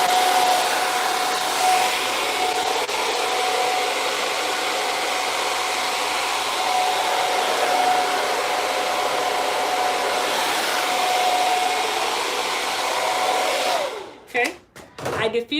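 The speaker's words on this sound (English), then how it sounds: "you can take your diffuser from your blow dryer" A blow dryer fitted with a diffuser runs steadily on natural hair for about fourteen seconds, a loud continuous whir that cuts off with a few clattering handling sounds at the end.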